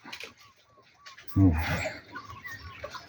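Hens cluck and peep in short bursts, with a sudden thump of unhusked rice scattering as they are fed outdoors by rice fields, and light chirps around it; no clear talking.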